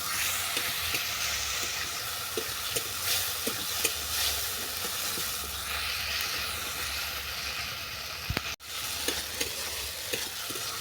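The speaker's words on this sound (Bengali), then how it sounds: "এটাকে আমি ভালো করে কষিয়ে নেব যতক্ষণ না মশলা থেকে তেল ছাড়ছি" Spice paste with chilli powder and salt is stir-fried in oil for a rohu fish and banana curry, a dense continuous sizzle with frequent ladle scrapes and a brief break near the end.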